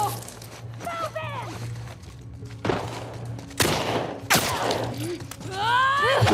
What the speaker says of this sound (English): I'm using my rifle.